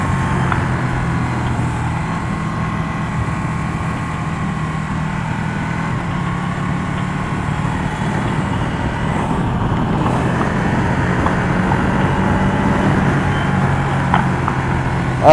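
A motorcycle engine drones steadily on the Dijon race track during a two-up ride, a continuous close roar with wind rush that swells slightly toward the end, without any talking.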